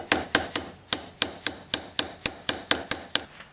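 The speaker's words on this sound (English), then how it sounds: "we're going to move this over onto the vise in a block, and we're going to drive that pin in there" A hammer drives a pin into a rifle lever clamped in a vise block during a 6.5 Grendel build, giving a steady series of about twelve sharp metallic taps, close and clear, evenly spaced with no talk.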